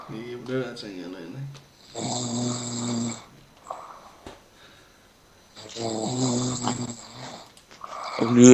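Heavy snoring from a sleeping person comes in loud, rough, growling bursts with pauses between, close and prominent in a quiet room.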